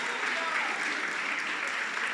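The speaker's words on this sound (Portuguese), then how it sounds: "Se assim você crê, dê uma salva de palmas" A congregation at a family worship service applauds, a soft but steady spread of many hands clapping, with a voice faintly underneath.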